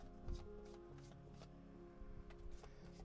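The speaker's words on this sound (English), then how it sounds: "I have done a riffle shuffle with it." Quiet, crisp fluttering of oracle cards being riffle shuffled, a few short bursts close by over a steady background hum.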